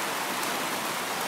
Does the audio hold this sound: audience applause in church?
no